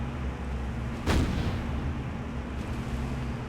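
A single heavy naval gun blast booms in the War on the Sea game, a sharp loud report that rolls off into a fading rumble over steady ship engine drone.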